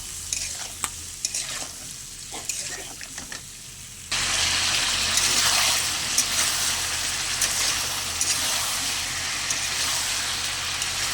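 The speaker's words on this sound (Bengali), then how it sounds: "সামান্য জল দিয়ে আরেকটু ভালো করে কষে নেব।" Vegetables (greens stems, potato and tomato) sautéing in a pan for a thin curry: close scraping stir strokes for a few seconds, then a little water hits the hot pan and a loud, continuous hissing sizzle takes over and holds steady.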